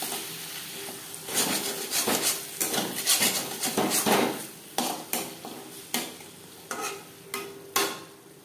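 Chopped coriander being stirred into a bhetki fish curry in a pan, a spoon scraping and clattering against the metal in repeated strokes, fairly close, with short pauses between bursts.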